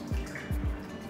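Drinking water pouring into a small glass, heard as a light splashing trickle with a few soft drips and gurgles, close and fairly quiet.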